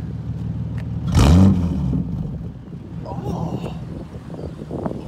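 A Ford Sport Trac with a new exhaust gives one short, sharp rev that swells and falls back within a second, then the engine runs quietly under nearby voices and outdoor wind.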